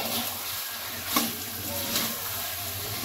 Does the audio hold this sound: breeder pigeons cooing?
no